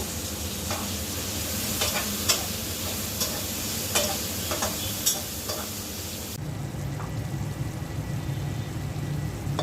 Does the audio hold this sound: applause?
no